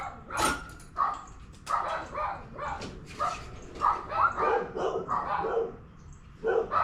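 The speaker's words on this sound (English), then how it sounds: "Shut up, doggies." Several dogs bark repeatedly nearby in quick, uneven bursts, with some yips mixed in, sounding loud and persistent for the whole stretch.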